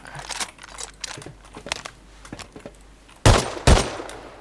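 Two sharp, loud suppressed sniper rifle shots in a video game ring out near the end, coming after scattered soft clicks and rustling handling noises.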